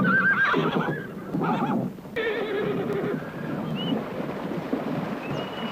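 A horse whinnies loudly and repeatedly up close, with clip-clopping hooves and some wind buffeting the microphone underneath, and no talking.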